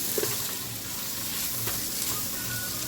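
Food sizzles steadily in a hot pan while it is stirred, a continuous close frying hiss with faint scraping, no talking.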